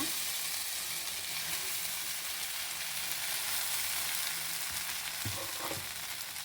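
Spiced masala bread toast roasts in butter in a pan, giving a steady soft sizzle throughout with a few faint scraping touches near the end and no talk.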